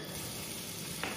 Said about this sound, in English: Start with the garlic, get it to sizzle.